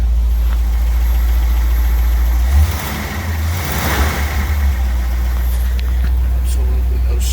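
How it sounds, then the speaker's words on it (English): A 1957 Ford Thunderbird's engine runs steadily at idle inside a warehouse, a deep close rumble that briefly swells with a light rev midway before settling back, while a voice speaks faintly over it. "Man, it just fired right up."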